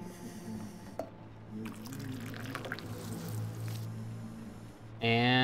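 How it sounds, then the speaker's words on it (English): Water pours onto a plant in the video game Twelve Minutes, a soft, low-level trickle running through most of the stretch, ending in a brighter, louder splash or chime near the close. "And now we water the plant."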